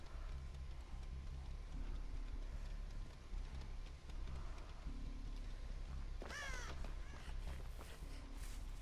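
Crows caw in the horror game Dead by Daylight, a quick cluster of harsh caws rising mid-way over a low, steady ambient rumble, with a fainter call near the end.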